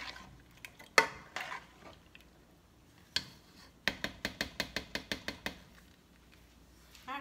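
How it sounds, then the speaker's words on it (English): Ingredients for a meatless stew pea dish are stirred in a cooking pot, with a run of quick, evenly spaced clinks and scrapes following a few scattered knocks in a quiet kitchen. "I'm going to stir it all together."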